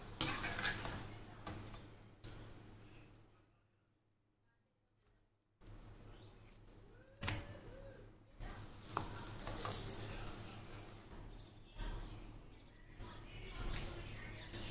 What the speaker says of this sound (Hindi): ये हमारी पूरी की तरह तल रही है।